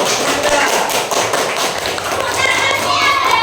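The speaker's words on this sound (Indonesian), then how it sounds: "Bagus, tepuk tangan dulu." A classroom of students claps together, loud and dense with steady continuous patter of many hands, close by and filling the whole stretch.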